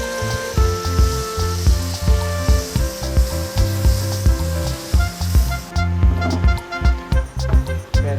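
Butter and fertilized quail eggs sizzling on a hot plate, a steady close frying crackle with a rhythmic pulsing and light clatter of stirring, with no talk.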